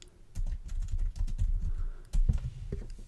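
Typing on a computer keyboard, rapid bursts of close key clatter with short pauses, during a digital marketing tutorial.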